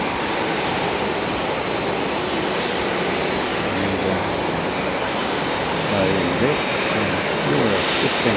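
Jet airliner in a 100th anniversary livery at Haneda airport, a continuous engine roar filling the scene with a faint rising whine near the end, someone talking over it.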